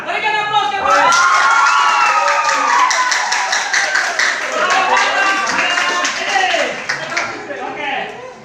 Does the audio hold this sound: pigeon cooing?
no